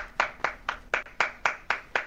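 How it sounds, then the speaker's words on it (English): A steady run of eight sharp hand claps, evenly spaced about a quarter second apart, close and fairly loud with nothing else behind them. "We stop clapping now"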